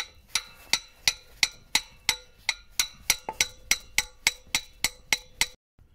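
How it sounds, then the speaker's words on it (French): A sledgehammer taps a car's catalytic converter in a steady series of about fifteen sharp metallic clinks, evenly spaced and close, each ringing briefly before the next, then stopping abruptly. "Et je prends en fait une masse et puis je tape dessus"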